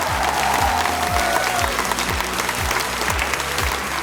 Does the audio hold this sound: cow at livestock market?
no